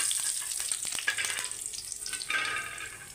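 Cumin seeds sizzling in hot oil as spices are tempered along with a dried red chilli for a chicken curry, a fine crackling hiss with scattered sharp pops, fairly soft and close, no voices.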